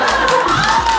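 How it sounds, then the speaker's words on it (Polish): A festive Day of Beauty celebration for women in Dębica, with a loud, steady roar of an audience cheering and applauding close by, sustained throughout without pause. "Ja myślę, że naprawdę te oklaski są jak najbardziej zasłużone."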